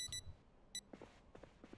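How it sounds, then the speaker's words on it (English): An alarm clock in Project Zomboid rings with two short bursts of electronic beeping, followed by faint, soft in-game bumps and rustles in a quiet room. "And then set the alarm again for the"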